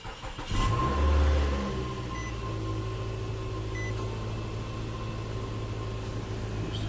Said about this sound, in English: now I'm gonna sit here, turn the car on.